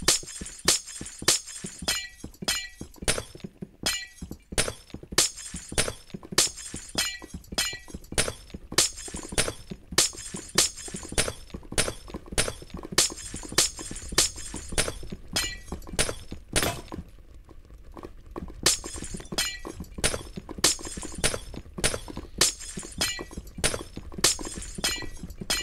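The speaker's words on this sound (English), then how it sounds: "Funny glass punching here." Glass repeatedly punched and shattered in the Escape101 video game, a fast run of sharp breaking and clinking impacts coming steadily throughout, loud and close, with a brief lull partway.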